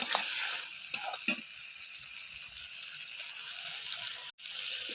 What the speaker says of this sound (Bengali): এরপরে জল দিয়ে দিচ্ছে